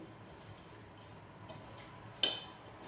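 Ingredients for dinkache ladoo, including black dried date powder, being mixed in a bowl, heard as soft, close scraping and a faint clink over a quiet hiss, with one sharper knock near the end.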